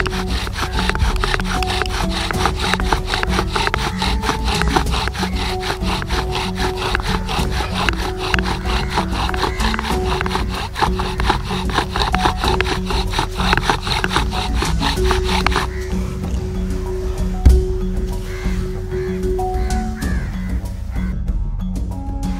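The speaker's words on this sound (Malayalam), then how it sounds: "ഈ പലകയിൽ നമ്മൾ ചവിട്ടി പിടിച്ചിട്ട് ഇങ്ങനെ പതിയെ കറക്കി കൊടുക്കാം." A wooden fire drill spun by hand against a wooden board held down underfoot, giving a steady, loud rhythmic rasping and scraping that speeds up, with short pauses and a brief knock near the end.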